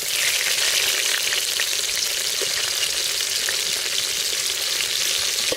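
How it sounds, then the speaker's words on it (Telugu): Onions drop into hot oil with already fried green chillies and cumin for a goat head curry, producing a loud, continuous, close-up sizzle without pauses or speech. "పచ్చిమిరపకాయలు గోలినాయి, ఉల్లిగడ్డ వేస్తానా."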